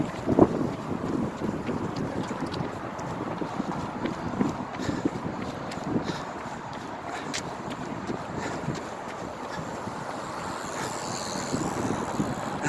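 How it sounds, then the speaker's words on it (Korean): Spring wind blowing outdoors beside a riverside bike path, roaring steadily against the microphone as a constant, fairly loud rumbling buffet throughout. "봄바람이 시원하게 불고 있습니다"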